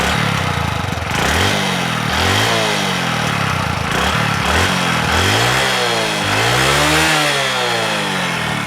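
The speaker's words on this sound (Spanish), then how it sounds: "En cuanto al sonido del motor, realmente es un motor que no suena mucho" A Honda CB1 110 cc city motorcycle engine runs steadily and loudly, its pitch rising and falling with repeated throttle blips, no voices present.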